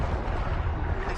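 A flashbang grenade going off in Resident Evil 4 Separate Ways: a dense, loud, low roaring burst that fills the whole short moment without any talk.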